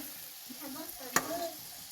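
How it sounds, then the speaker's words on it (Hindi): Eggs frying in hot oil for a Kashmiri dish while being stirred, a steady soft sizzle with a sharp utensil clink partway through. "अभी ये जो अंडे हैं ये अच्छे से फ्राई हो गए हैं"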